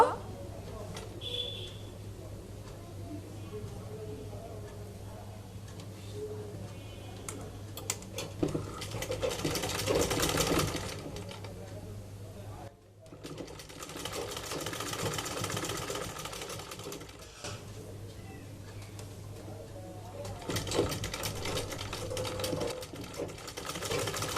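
A sewing machine joining the shoulder seam of a baby frock, its quiet rapid stitching running in bursts separated by a brief pause, alongside a faint steady hum, with a voice talking.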